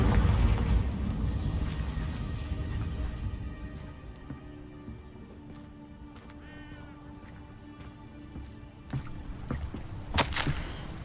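The Confringo explosive spell is cast in Hogwarts Legacy: a booming blast with rumbling debris at the start that trails off under music, followed by a few sharp magical zaps and bursts near the end.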